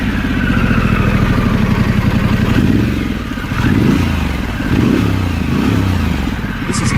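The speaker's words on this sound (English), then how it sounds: "Realize a significant weight reduction and a deep, sporty exhaust tone, designed specifically to fit right and look great on Pan America." Harley-Davidson Pan America 1250 motorcycle fitted with an IXIL exhaust, its deep, loud exhaust note close by: a steady idle-like throb for a few seconds, then several rising and falling revs.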